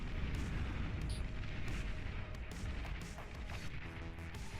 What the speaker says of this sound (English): still taking so much damage from this artillery on this south side